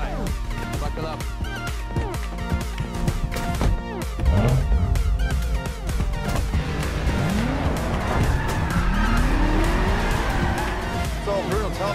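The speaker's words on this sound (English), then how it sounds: "That's the brand new BMW M5, never seen in public until now." A brand new BMW M5 drives hard, its engine note rising and falling with tire squeal and skidding through the run, all loud and close, while a voice talks over much of it.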